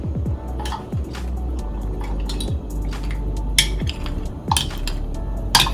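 Washed clams tumble into a soup pot for seaweed and clam soup, giving close clattering shell knocks and wet splashes and drips in irregular bursts, with no talk.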